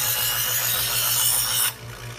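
A Chef'sChoice Trizor XV EdgeSelect electric knife sharpener grinds a knife blade with a loud, steady close-up rasp over the motor hum, then the grinding stops abruptly and only the quieter motor drone remains.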